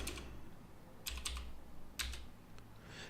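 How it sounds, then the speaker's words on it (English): Sparse clicks on a computer keyboard, a few quick keystrokes in small bursts separated by pauses, close and fairly quiet. "Let's try typing John,"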